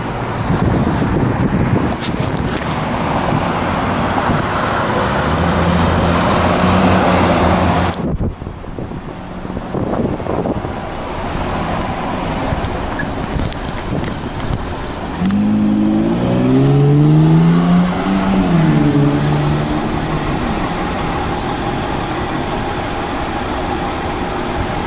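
A Q6 city bus passes on a Queens street in a constant roar of traffic and engines under heavy wind buffeting. A louder engine swells and shifts its pitch up and down as the vehicle goes by close to the microphone.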